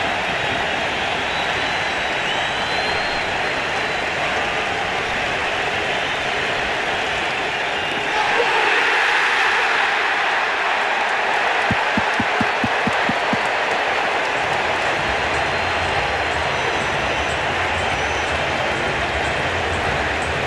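Large baseball stadium crowd in Toronto during a 2016 AL Wild Card playoff game, a loud sustained roar that swells midway and holds steady, with a brief burst of rhythmic clapping within the din.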